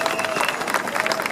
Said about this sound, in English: can we have an applause for Mike?